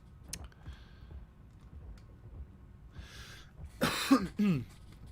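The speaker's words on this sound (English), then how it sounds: "apologies for that cough" A single harsh cough and throat clear near the end, preceded by soft clicking and quiet background noise.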